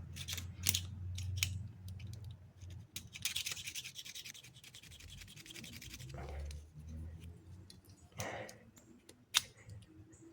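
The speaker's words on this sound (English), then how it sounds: "I'll take the utility knife and we can just scrape this stuff off" Utility knife scraping old gasket material off the axle of a 1927 Chevy during outer axle seal replacement, a run of rough scratching strokes close up, with low handling noise and brief talk in between.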